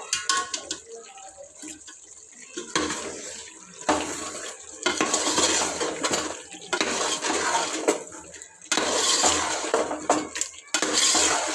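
A pot of chicken biryani masala with coriander is stirred, giving bursts of wet scraping and clinking utensil sounds, loud and close, separated by brief quiet gaps.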